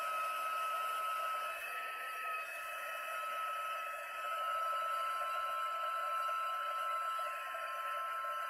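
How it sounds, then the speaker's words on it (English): A craft heat tool blowing for heat embossing, a continuous whirring hum with a hissing airflow, close and steady with slight dips in level. "I'm going to turn on my heat tool."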